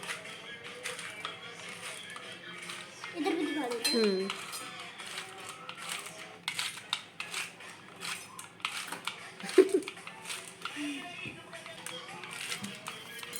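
A dry fruit cutter chops dry fruit in a busy D-Mart store, giving repeated clicks and clatter close by amid a constant crowd murmur, with a louder thud near the middle.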